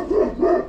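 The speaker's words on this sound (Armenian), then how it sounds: "Ստեղ շուն է ապրում։" A large dog gives two deep, loud barks in quick succession, close by.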